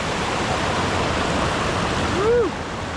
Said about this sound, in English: It's like a lot of step lakes with little like cheeky waterfalls like this.